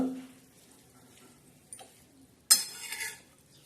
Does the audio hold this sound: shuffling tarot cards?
no